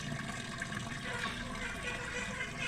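Water pours and trickles steadily from one tank down into another in a homemade aquarium built from a fridge, a continuous close splashing with a faint voice in the background.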